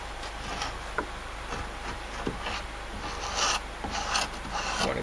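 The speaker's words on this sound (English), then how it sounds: "I got to scrape some of this paint around here." Close, repeated scratchy strokes of a scraper taking latex paint off a wooden deck railing, irregular rasping passes with small knocks, no talk.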